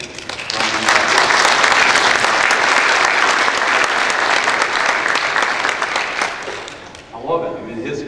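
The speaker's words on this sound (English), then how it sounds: "you could clap for them or whatever?" Loud, sustained applause from a church congregation fills most of the clip, then fades out as voices begin talking at the end.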